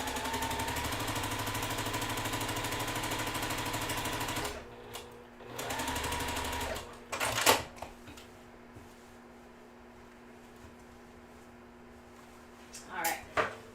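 A sewing machine stitches quilt seams in rapid steady bursts for several seconds, stops, runs briefly again, then falls quiet apart from a few small handling clunks.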